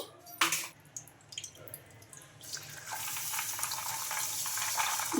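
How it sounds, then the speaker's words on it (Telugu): Water runs and splashes into a container, rising to a steady rush of pouring and sloshing as rice and peanuts are rinsed, with a few clinks early on. "ఇప్పుడు వాటర్ అయితే వేసుకొని ఒక రెండు సార్లు శుభ్రంగా కడిగేసుకోవాలి"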